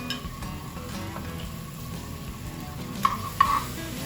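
Chipotles go into a hot pan for a shrimp and grits sauce, setting off a steady close sizzle with light stirring, plus a couple of brief bright clinks near the end.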